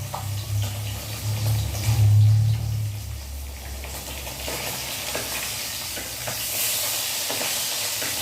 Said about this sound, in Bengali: খুব মাছটা খুব ফাটছে, মাছের থেকে তেল ফাটছে